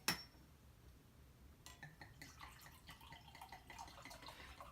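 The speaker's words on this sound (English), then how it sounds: "I'm actually gonna pour myself glass too" White wine is poured into a glass at home, a soft trickle with light clinks of glass, faint and close, with no talking.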